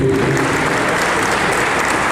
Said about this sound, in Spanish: Vamos a brindar un fuerte aplauso